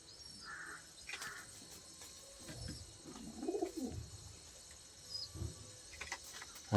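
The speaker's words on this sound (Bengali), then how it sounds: "অনেক পাখি বাচ্চা দিয়েছে।" Pigeons or doves coo softly around a nest holding chicks, with a few separate low calls and some thin higher chirps over a quiet outdoor hum of insects.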